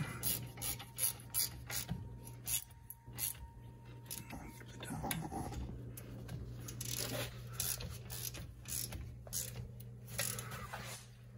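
Front brake caliper bolts being tightened on a Toyota Camry during a brake and rotor replacement, a close run of rapid ratcheting clicks and mechanical rattles throughout, steady and moderately quiet, no talking.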